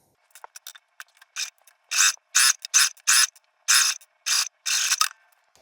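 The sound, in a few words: sewing machine basting a seam on a sling bag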